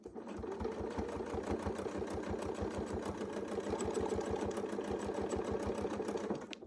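A quilting sewing machine stitches steadily around a Westalee circle ruler, a continuous, evenly pulsing motor-and-needle rattle with regular rhythmic beats, fairly quiet and close, with no talking.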